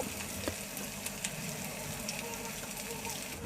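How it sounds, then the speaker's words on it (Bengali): Two bay leaves, two cardamom pods and a piece of cinnamon fry in hot oil with green chili slices, giving a faint, even, continuous sizzle with no one speaking. "দিয়ে দিচ্ছি দুইটা তেজপাতা দুইটা এলাচ এক টুকরো দারচিনি আবারও সব কিছু এক মিনিটের মতো ভেজে নিব"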